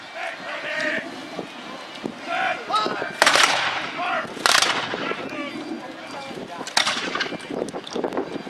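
Musket volleys at a Napoleonic battle reenactment at Fort George crack out in scattered bursts of sharp reports, some close and loud, others more distant, with a commentator's voice and crowd noise running underneath.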